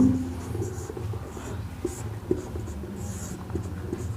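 An equation is being written by hand as a steady run of soft, scratchy strokes with tiny pauses between them, faint and close, with no talking.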